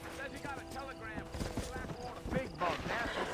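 A horse in Red Dead Redemption rears and acts up, hooves clopping and shuffling close by under overlapping talk in the game.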